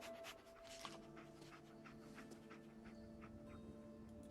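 A dog companion in the Fallout 4 video game pants in quick, rhythmic breaths, close and fairly soft, with a few faint whimpers over quiet game ambience.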